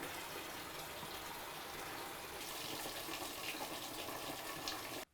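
Water rushing steadily through a Navien NCB 240 water heater after the cold-side valve is opened, a faint, continuous hiss of flow with a slight change in tone partway through before cutting off.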